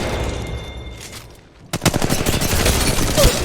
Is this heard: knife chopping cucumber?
no